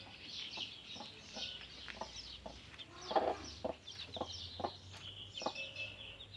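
Chickens cluck in short, irregular bursts, with a few louder calls standing out over a faint steady hum in the background.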